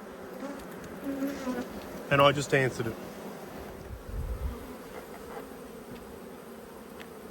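Honey bees buzz around a hive in a steady low drone, with a few louder bees passing close by, while someone speaks briefly over the hum.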